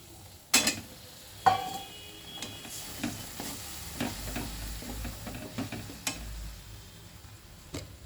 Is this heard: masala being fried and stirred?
yes